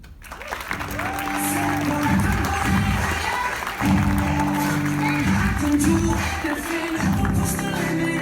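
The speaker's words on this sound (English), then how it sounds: "So round of applause for Dean." An audience at an entrepreneurship talk breaks into sustained applause that starts quickly and holds steady for several seconds, with some crowd noise mixed in.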